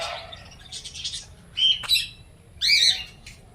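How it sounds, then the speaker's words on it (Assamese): Lovebirds at Assam State Zoo in Guwahati give shrill squawks and chirps in several sharp bursts, close and fairly loud, with quieter chatter between calls. "love bird"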